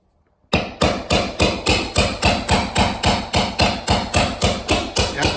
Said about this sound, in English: So get a little pry bar, hammer it in there.